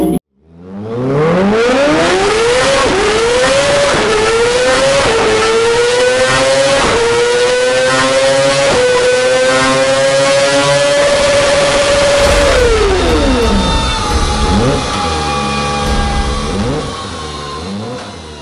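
A Kawasaki ZX-25R motorcycle engine revving up close, a high-pitched screaming four-cylinder wail that climbs, holds near redline with brief stutters, then drops and settles to a lower, rougher idle.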